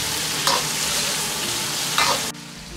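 Chestnut braised pork is stir-fried in a wok with spices and cooking wine, giving a steady, loud hiss of frying broken by two brief bursts of scraping before the sizzle drops away.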